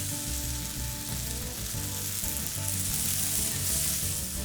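Pork sizzles and fries in oil in a pan, a steady, close, dense crackle that keeps going for the whole stretch with no talking.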